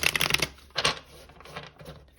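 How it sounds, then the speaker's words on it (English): Rapid papery riffling of tarot cards being shuffled, a dense burst at the start, then a second short burst and softer flutters trailing off. "I would just do one last shuffle here."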